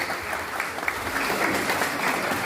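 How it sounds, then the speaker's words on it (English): Audience applause at a convocation ceremony, steady and dense, with many hands clapping at an even level throughout and no voices on top. "So please begin a round of applause."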